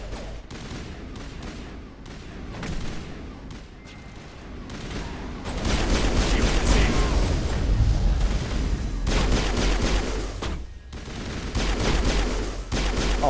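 Mass Effect Legendary Edition gunfire: scattered shots early, then a dense, loud sustained volley of rapid fire with booming impacts, continuing in heavy bursts to the end.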